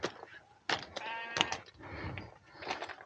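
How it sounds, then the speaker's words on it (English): A sheep bleats on an open Lake District fell, with a few close, wavering bleats of moderate loudness heard outdoors. "And a sheep."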